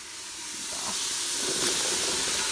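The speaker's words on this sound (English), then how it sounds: "This is sauteing really great. I had coconut oil in there" Vegetables sauté in coconut oil inside an Instant Pot, giving a steady, fairly quiet sizzling hiss that builds slightly and holds without pause.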